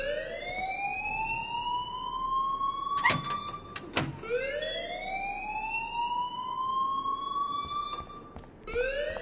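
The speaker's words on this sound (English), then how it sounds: "please turn off that alarm since that's your job" Alarm siren from the video game Life is Strange, a loud, continuous rising-and-falling electronic wail that repeats in long sweeping cycles, broken briefly by a couple of sharp thuds, with no talk over it.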